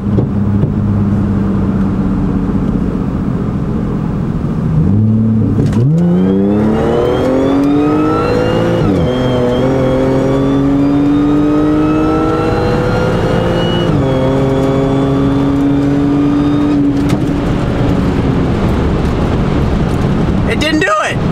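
A wrecked BMW M4 accelerates hard in third gear on a cold day in Tijuana, Mexico. The loud, close engine note climbs steadily in pitch, eases briefly, then pulls on before dropping away.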